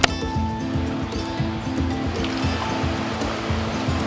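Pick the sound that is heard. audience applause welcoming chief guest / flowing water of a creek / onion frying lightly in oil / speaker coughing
flowing water of a creek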